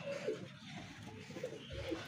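Pigeons sitting nearby give a few soft, low coos against faint background hum and distant traffic.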